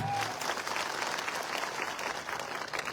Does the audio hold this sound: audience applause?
yes